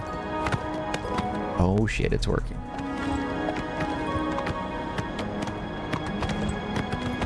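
A horse gallops in the video game Oblivion Remastered, with steady rapid hoofbeats running through the whole stretch amid game ambience, while someone speaks briefly over it.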